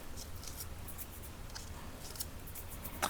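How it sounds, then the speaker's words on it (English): Scissors scrape and snip at sticky adhesive on a craft piece, making faint close scratching and small clipping sounds over a low steady room hum, with a sharper click at the end. "I'm using my scissors to kind of get up under there"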